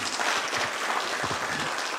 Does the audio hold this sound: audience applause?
yes